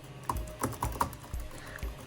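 Keys clack on an Apple Magic Keyboard for a 2020 iPad Pro, a handful of soft, close, irregular taps in a quiet room.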